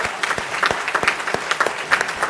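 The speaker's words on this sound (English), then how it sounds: "So let's give her a round of applause." Audience members clapping at a city council meeting in Fayetteville to honour a spelling bee champion, with an uneven, moderately sized round of applause of distinct hand claps.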